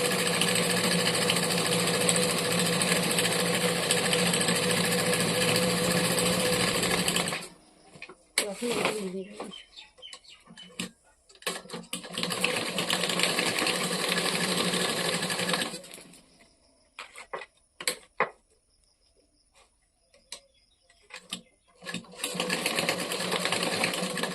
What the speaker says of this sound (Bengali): জায়গাটা ভালো করে সেলাই করলাম